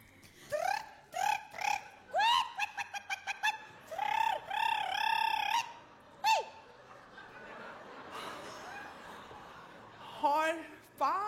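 A person imitates a chaffinch with a run of whistled, chirping bird calls in quick bursts, close and fairly loud, and breaks into a few voiced, throaty sounds near the end.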